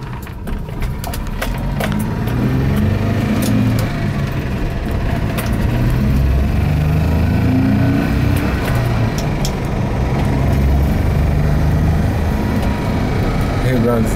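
A manual-overdrive Volvo 264 GLE with its PRV B28E V6 runs under steady throttle and pulls up to speed, a loud, continuous low engine drone with rising rumble throughout, heard from inside the car.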